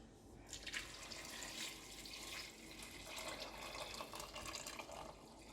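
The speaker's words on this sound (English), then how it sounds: "we're going to put the water in next because the water is very hot" Hot water pours steadily into a pan for carrot and coriander soup, a faint continuous splashing and trickling that runs throughout with small shifts in flow.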